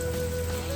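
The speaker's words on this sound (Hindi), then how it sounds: "बहुत ही ज़्यादा बारिश होना, पूरा भीग गया" Heavy monsoon rain pours down in Haflong, a dense continuous hiss of drops on surfaces at steady loudness with a low background hum.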